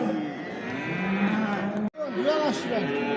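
A cow lows at the Göksun livestock market in Kahramanmaraş, two long drawn-out moos broken by a brief pause, with a voice talking faintly nearby amid market chatter.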